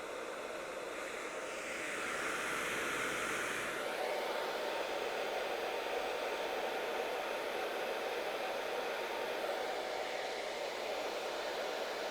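Hair dryer blow-drying hair during a soft mullet haircut, a loud continuous close-up rushing whoosh that rises in strength after a couple of seconds and holds steady throughout, with no talk.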